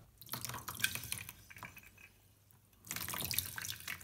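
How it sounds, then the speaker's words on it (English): Cold water runs from a tap over a cut square glass bottle to crack it along the scored line, a close splashing, trickling flow that surges, eases off for a moment, then pours strongly again. "Cold water will make quick thermal stress and cut line will crack."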